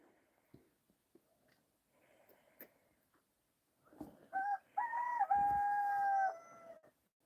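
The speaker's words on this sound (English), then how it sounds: "All those cocks out there making a hurrah of a racket." Roosters crow outside in the early morning, several long drawn-out cock-a-doodle-doos rising over a few scattered clucks and small knocks, fairly close and loud, with no talk.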